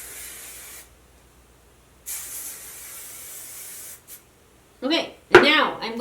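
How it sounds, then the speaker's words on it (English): Hair spray hisses onto curly hair in two steady bursts, a short one and then a longer two-second spray, close and clear, followed by someone briefly talking. "Now I'm going to turn it upside down and spray it one more time."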